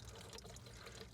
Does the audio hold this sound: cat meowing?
no